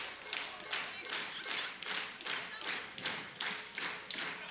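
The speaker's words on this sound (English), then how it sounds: "Oh, I love it when the crowd here gets involved." Rhythmic crowd clapping and foot stamping fill an esports arena during a 2017 EU LCS Summer Split match between Roccat and H2K, steady regular beats at moderate volume with no talk over them.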